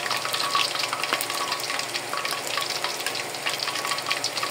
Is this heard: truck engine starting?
no